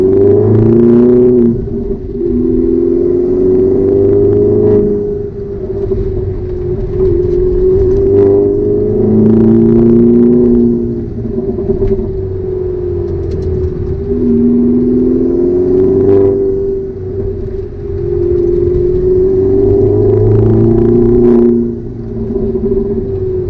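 A 2007 Opel Corsa OPC with a 1.6-litre turbo four-cylinder making 192 hp and a full exhaust line climbs a short, twisty uphill road through hairpins. Its loud, continuous engine drone swells and eases as the revs rise and fall throughout.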